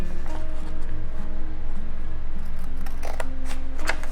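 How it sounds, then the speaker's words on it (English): Scissors cut paper for a handmade booklet, producing a few soft snips near the end over a steady low hum and a faint repeating tonal pattern in the background. "I'm going to make a cut from the edge to about there"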